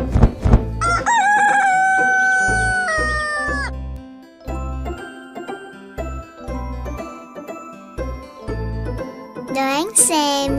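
A cartoon rooster crows loudly over a bouncy children's song, its stretched harmonic call rising above the music near the start and again at the end, with a voice mixed in.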